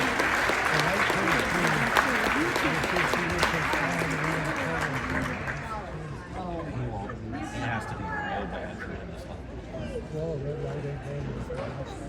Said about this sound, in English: Let's give a big round of applause to the Oklahoma High School.